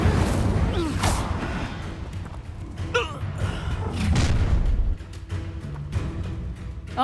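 Incendio fire spell cast during combat in Hogwarts Legacy; several booming thuds and whooshing blasts rise over a dense rumbling battle bed, with scattered crashes and a louder burst midway.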